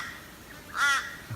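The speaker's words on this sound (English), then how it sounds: "you can hear the crows in the background." A single harsh crow caw rings out in the background of bush country during a boar hunt, mid-distance and fairly clear over quiet ambient noise.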